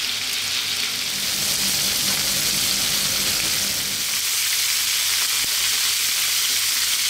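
Garlic rosemary lamb chops sizzling in a hot skillet, a steady close frying hiss with crackling spatter throughout, no voices.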